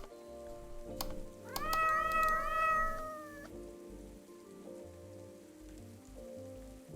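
A cat in a video game meows in a few rising, drawn-out calls over a steady patter of rain, fairly quiet, with no voices.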